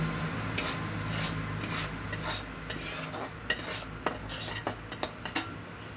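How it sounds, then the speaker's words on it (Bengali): Utensil scraping and stirring flour as it is lightly roasted in a pan, with a soft continuous rasping and several sharper metallic clicks toward the end, fairly quiet and close. "ময়দাটাকে একটু হালকা ভেজে নিতে হবে"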